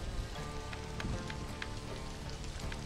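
Steady rain patters on surfaces in the alien-planet survival game Stranded: Alien Dawn, a soft continuous hiss with faint droplet ticks and no voices.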